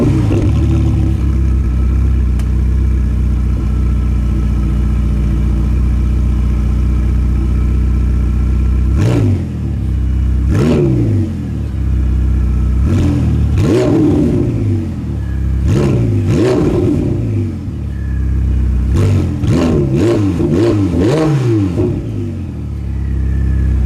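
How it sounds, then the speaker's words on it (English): A 2020 Ferrari 488 Pista Spider idles loudly and close, then its engine is blipped in a series of sharp revs that rise and fall, clustering more tightly toward the end, with no talk over it. "Now pressing the red engine on-off button, we can turn on the screens and start the engine,"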